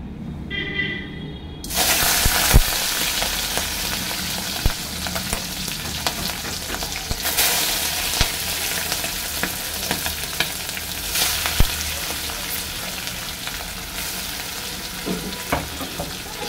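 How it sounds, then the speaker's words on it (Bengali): Prawns sizzle in hot oil in a home kitchen, a loud, steady frying hiss that bursts in after a quiet moment and keeps crackling without a break. "আমি এবার তেল দিয়ে দিলাম। এই তেল গরম হতে তো সেকেন্ড লাগে। এবার দিচ্ছি চিংড়ি মাছ।"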